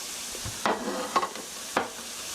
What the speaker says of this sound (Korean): 레드벨 페퍼 이렇게 살살 볶아주세요